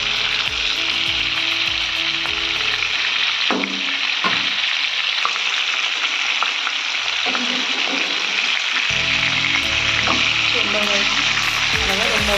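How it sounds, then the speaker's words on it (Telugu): Fish frying under a lid in a pan, a steady dense sizzle filling the clip with scattered pops and crackles and a few soft scraping or lid sounds, close and fairly loud with no voices. "చేపలు బాగా ఫ్రై అయ్యే వరకు కొంచెం కాసేపు అలా మూత పెట్టుకుందాం. బాగా ఫ్రై అవుతుంది."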